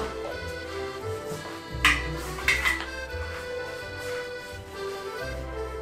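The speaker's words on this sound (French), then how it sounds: "Vous pouvez dès à présent maintenant rajouter de la farine avec la levure. Mélanger encore." Cookie dough being stirred with flour and yeast in a bowl, the utensil scraping and knocking against the sides with two sharper clinks near the middle, steady and close, no talking.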